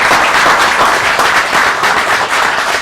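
Dense, loud applause from an audience at a leadership event, a continuous wash of many hands clapping at steady level throughout, close, without speech.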